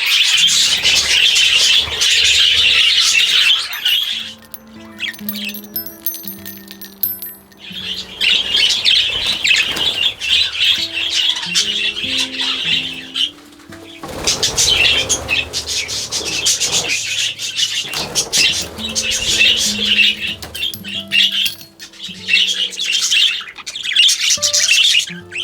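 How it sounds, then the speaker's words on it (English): A crowded flock of budgies in an aviary chirps and chatters nonstop, a dense, bright twittering layered with squawks that stays loud and close for the whole stretch, dipping only briefly. "looking at this scene, it really feels overcrowded with budgies"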